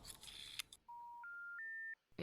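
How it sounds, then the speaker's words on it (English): Three clean electronic keypad tones step upward in pitch, each held briefly, as a phone number is dialed in a video game; short bursts of other game sound bracket them. "On va composer tout le numéro"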